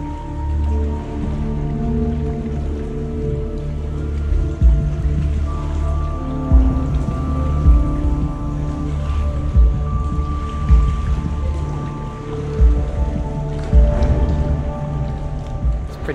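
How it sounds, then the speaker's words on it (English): Sea waves wash and slosh through a rock tunnel in a sea cave, echoing with irregular surges and splashes over a steady low rumble for the whole stretch. "You've got the sound of the waves echoing through it."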